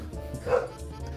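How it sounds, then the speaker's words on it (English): A pet dog gives a single short, close bark or yip in a quiet room, with a faint whimpering quality. "Also, that's my dog."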